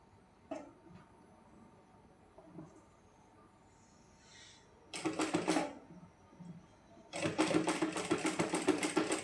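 A sewing machine stitches cord along the edge of buckram for a neckline design, running in two loud, rapid mechanical bursts after a quiet stretch with faint handling noises.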